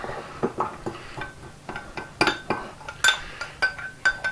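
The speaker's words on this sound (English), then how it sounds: "Got to mix that together." Ingredients for a peach custard cake mixed in a bowl, with a utensil tapping and clinking against the dish in an irregular rhythm, close and moderately loud.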